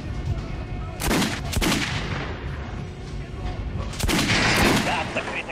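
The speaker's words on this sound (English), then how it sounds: "Now shoot the armored dummy." Gunshots fired at an armored training dummy in Metro Last Light: two loud, separated clusters of heavy reports with rumbling tails, close and forceful over steady game ambience.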